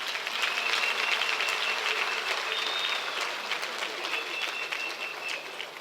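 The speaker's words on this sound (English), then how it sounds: "Can we give the former premiers, the former MECs and the MPLs a nice round of applause?" Applause from an audience at a provincial political inauguration, a steady sustained clapping that runs the whole stretch at moderate distance with faint voices mixed in.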